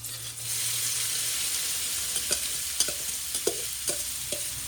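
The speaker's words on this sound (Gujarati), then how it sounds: "હવે આપણે એના પછી કાંદા એડ કરશું." Onions hit hot oil already tempered with cumin and asafoetida, bursting into a loud, steady close sizzle after a brief quieter start, then a run of spoon taps and stirring knocks. No voices are heard.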